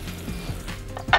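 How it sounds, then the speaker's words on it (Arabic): Mushrooms with garlic and thyme sautéing in a pan, a brief soft sizzle with a couple of quick stirring scrapes and a small clink of the utensil at the end. "نبتدي نقلب المشروم"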